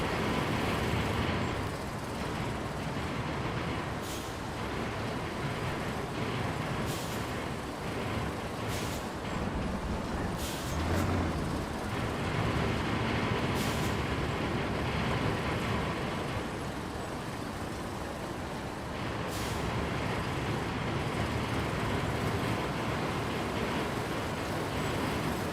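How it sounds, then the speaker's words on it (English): Heavy truck in the RoadCraft video game shaking and rattling over rough ground, a steady loud engine and rumbling drone with repeated hissing air-brake bursts, continuous for the whole stretch with no talking. "Sounds like she's shaking, rattling, and rolling back there."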